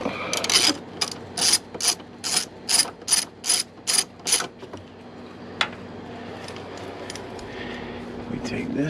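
A socket ratchet loosens an 11 millimeter bolt on a 2008 BMW 328xi door, clicking in a fast burst followed by about eight quick rhythmic ratcheting strokes, close by, before things go quiet.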